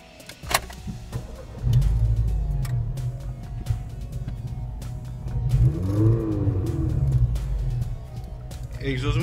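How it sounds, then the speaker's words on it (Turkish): A Renault Megane engine idles steadily with the exhaust closed, a low, rumbling hum, joined by a brief mechanical clunk near the start and some faint background voices. "İlk olarak aracımızı rölantide egzoz kapalı iken çalıştırıp sesine bir bakalım."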